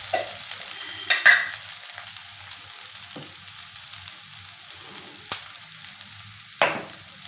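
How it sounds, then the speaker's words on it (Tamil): A spoon stirs cooked chana dal into masala stuffing in a pan, soft scraping and a low sizzle broken by a few sharp clinks against the pan, close and quiet, with no talking. "இன்னி இந்த கடலைப்பருப்பு வந்து இந்த மசாலாக்களோடு நல்லா கலந்து வர மாதிரி நல்லா கிண்டிக்கிறோம்."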